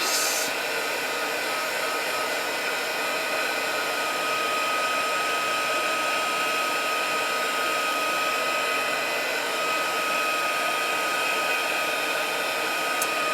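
A heat tool blows a constant, even whirring hiss while heating Tim Holtz embossing glaze, running alone without interruption.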